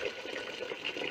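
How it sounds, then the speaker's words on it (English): Hot water pouring from a kettle in a thin, steady splashing trickle, soft and close, running unbroken for a moment with no voices. "just hot water out of the kettle."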